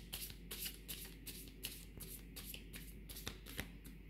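A deck of tarot cards is shuffled by hand, giving a run of quick, soft riffling bursts at close range, fairly quiet.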